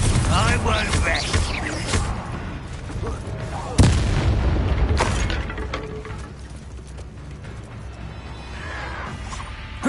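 In the Hogwarts Legacy video game, a Confringo blasting spell sets off a booming explosion with a crashing impact partway through, amid rumbling battle noise. Voices talk over the din.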